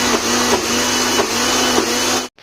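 A kitchen mixer grinder grinding urad dal, a loud, steady high-pitched motor whine with a rhythmic churning pulse, close by and alone, cutting off sharply at the end.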